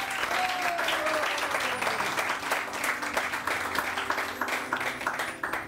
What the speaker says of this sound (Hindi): और हमारे बैंड के लिए बहुत सारी तालियां,